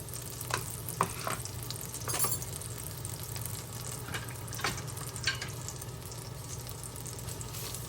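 Garlic frying in butter in a pan for clams in white wine garlic butter sauce, a steady close sizzle carrying scattered clinks and stirring scrapes throughout, with no speech.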